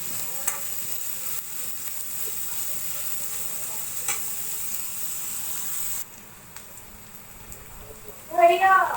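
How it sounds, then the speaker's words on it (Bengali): Onions fry lightly in a pan for a fish curry, a soft steady sizzle with occasional stirring scrapes, while someone talks near the end. "পেঁয়াজ একটু তাদের ভিতরে ভেজে নেব, মানে হালকা ভেজে নেব আর কি।"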